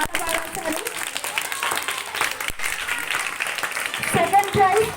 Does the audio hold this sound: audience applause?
yes